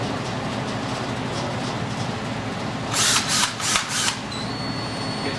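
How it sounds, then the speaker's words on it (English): A steady motorized whir from a drill fitted with a sanding disc runs throughout, joined midway by a few loud, harsh grinding bursts against wood turning on a lathe, then a thin high whine. "all it's just a disc on the end of a drill"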